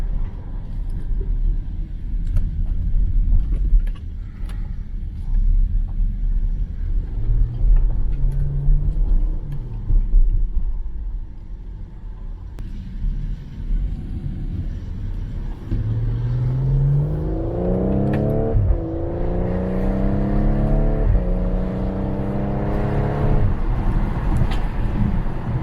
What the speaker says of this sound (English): So we'll head to the expressway and get some expressway driving in.